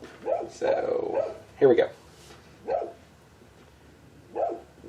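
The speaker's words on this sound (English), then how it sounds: "You can ignore the dog in the background. He's found himself a squirrel." A dog in the background barks at a squirrel in short, spaced bursts, five or so mid-distance barks with quiet gaps between them, while a person speaks nearby.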